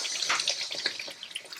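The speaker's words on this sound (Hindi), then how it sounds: "अब इसमें सिर्फ आपने आधे कप जितना पानी डालना है" Half a cup of water poured into a pan of chicken masala frying for chicken tikka, a loud close splashing and bubbling stream with no talking.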